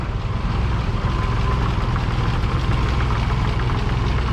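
Oliver 880 tractor engine idling while warming up after a carburetor replacement, a steady low rumbling chug, close and continuous with no voices.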